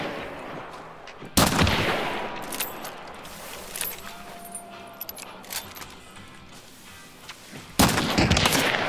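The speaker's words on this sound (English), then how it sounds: "He's shooting at me." Gunshots in Hunt: Showdown go off as two loud, sharp cracks, one near the start and one near the end. Fainter scattered reports and small clinks fall in between against a quiet outdoor background, with no talking.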